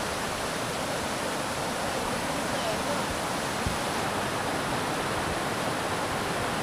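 Steady broadband rushing of flowing stream water after monsoon rain fills the clip, constant and close, with no other clear sounds above it.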